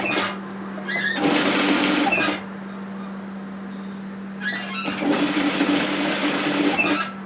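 Sewing machine stitching a bomber-style varsity jacket runs in two bursts of rapid mechanical chatter, each a second or two long, separated by a quiet pause with a low steady hum underneath.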